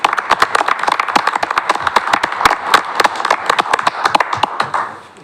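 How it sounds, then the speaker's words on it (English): A small audience at a parks board meeting gives a round of applause: a few people clapping in distinct, fairly close hand claps that form an uneven rhythm for about five seconds before stopping. "Hey, round of applause for Daniel."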